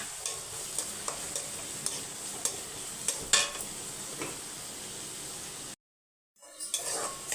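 A large onion fries in a hot pan while being stirred, giving a continuous sizzle with repeated scraping clinks of the utensil against the pan, then a brief full silence before the sizzling returns.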